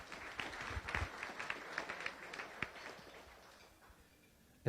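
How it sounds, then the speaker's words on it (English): Room of guests at a Las Vegas Rotary Club weekly luncheon meeting giving a round of applause for visitors and the head table, soft, moderately distant clapping that tapers off toward the end. "Please join me in a round of applause for all of our visitors and the head table."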